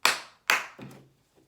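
Two sharp, close hand claps land about half a second apart, followed by a softer third clap and then quiet.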